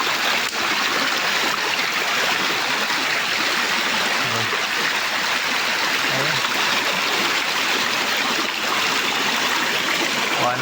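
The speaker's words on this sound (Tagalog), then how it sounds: "sa ganito ka lumakas bigla yung agos ng tubig eh tapos puro putik eh" Strong, muddy stream water rushing steadily and loudly close by, a continuous broadband roar with no pauses from start to finish.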